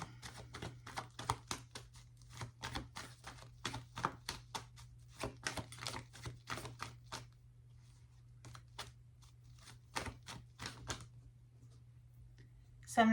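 Tarot cards shuffle in quick riffling bursts, close and fairly soft, pausing briefly before starting again, over a low steady hum.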